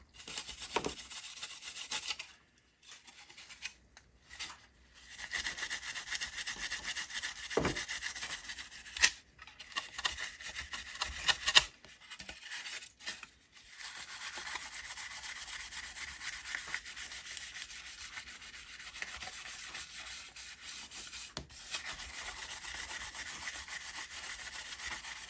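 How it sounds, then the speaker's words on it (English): A clear Lexan RC car body is scuffed by hand, producing faint, repeated rubbing and rasping strokes in bursts, separated by short quiet pauses. "I just want to get it so it's got a little bit of scratches in it"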